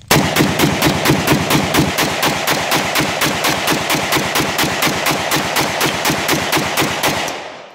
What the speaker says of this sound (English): It's the Micro Draco AK47.